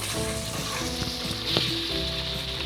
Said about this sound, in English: I'm gonna not scratch, but rub the bottom of the pan.